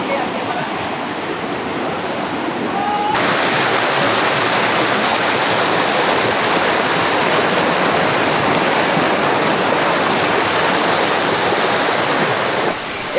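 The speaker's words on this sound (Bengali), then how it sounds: "এই ঝর্ণার কাছাকাছি চলে আসছি," A waterfall at Napitta, Sitakunda, near Chittagong, Bangladesh, roars as a loud, steady wash of rushing water, thinner for the first few seconds and then suddenly full and close, holding constant to the end.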